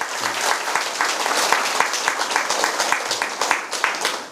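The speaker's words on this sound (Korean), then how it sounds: "박수." Clapping from a gathered audience at the close of a Korean mind-study lecture on body and mind health, crisp individual claps clearly audible in a lively, fairly close burst of applause.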